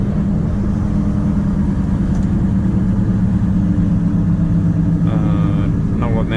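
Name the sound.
heavy loaded truck engine braking on winter road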